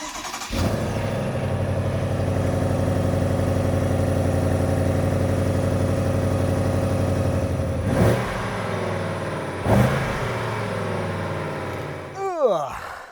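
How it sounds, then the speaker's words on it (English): BMW M850 cold start: the engine fires and settles into a loud, steady high idle, then a couple of short blips before it winds down. "So this week's cold start, we may as well give BMW a bit of love. Obviously, they look after me, so let's do my M850."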